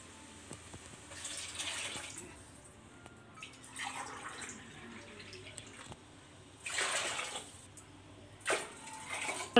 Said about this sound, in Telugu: ఇక 3 గిలాసుల నీళ్ళు పోయాలి